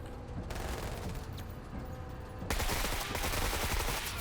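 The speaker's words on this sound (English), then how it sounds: "Open fire." Sustained automatic gunfire from a squad in a sci-fi turn-based tactics game, dense rattling volleys that grow louder and heavier halfway through, with no talking.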